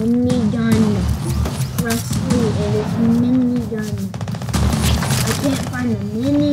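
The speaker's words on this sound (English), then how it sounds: "It's literally a mini gun." A minigun in Fortnite fires a sustained rapid-fire rattle over music with a tonal melody, keeping a dense, continuous barrage throughout.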